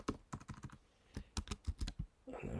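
Typing on a computer keyboard in quick, irregular bursts of close key clicks, with a short pause midway and a louder rustle at the end, with no voices.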